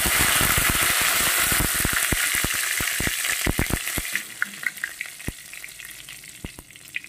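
Cumin seeds and curry leaves crackle and spit in hot oil at close range, a dense loud sizzle broken by many sharp pops that thin out and soften over the seconds.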